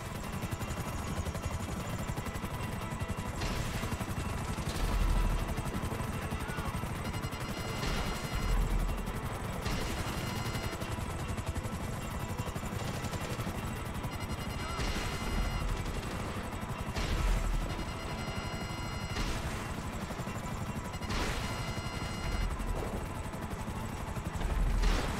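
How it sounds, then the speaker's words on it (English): In GTA 5 Online, a helicopter's rotor drones steadily while bursts of gunfire crack at intervals over roughly twenty-five seconds, with no voices over the game sounds. "There's another helicopter coming in."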